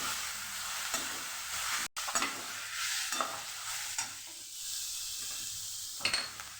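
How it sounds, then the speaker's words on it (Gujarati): Grated papaya fries in hot oil spiced with turmeric, asafoetida and chillies, a soft continuous sizzle broken by occasional scraping stirs and a brief clatter of a utensil, heard close with no talking. "સરસ આપણે મિક્સ કરી લઈશું"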